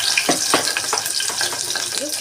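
Chopped green chillies and onions sizzle in a hot pan for gongura chicken while being stirred, with a steady frying hiss broken by repeated scraping strokes of a spoon across the pan.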